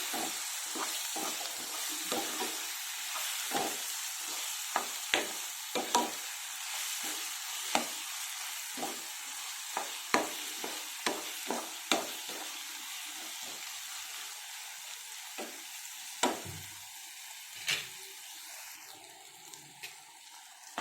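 Chopped tomatoes sizzle and soften in a pan for South Indian egg curry, with a soft, even frying hiss broken by repeated scraping clicks of a spoon stirring at an irregular pace.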